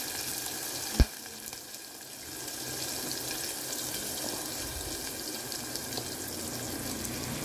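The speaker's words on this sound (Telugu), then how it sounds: "ఉల్లిగడ్డ, పచ్చిమిర్చి మొత్తం వేసాం. అవి ఫ్రై అవుతూ ఉంటాయి." Chopped onions and green chillies frying in a pan with cumin seeds, a continuous close sizzle holding steady after a single sharp knock near the start, with no voices.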